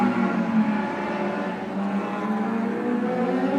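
Suzuki SR3 race cars on their final lap of a circuit race, a steady loud engine drone holding a sustained pitch throughout, heard from a distance with no break.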